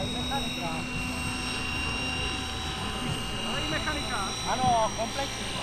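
A radio-controlled model helicopter with home-built mechanics flies at a model show, its rotor whine steady in the background beneath an announcer's voice and crowd noise.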